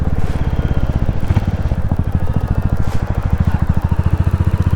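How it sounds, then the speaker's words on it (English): A Royal Enfield Classic 350 motorcycle thumps along while riding, its single-cylinder engine giving a loud, close, rapid steady pulse with slight changes in pace. "It's actually a pleasure to ride this bike."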